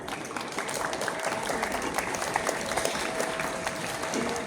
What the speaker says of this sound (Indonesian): juga kita kasih aplaus untuk kita semuanya.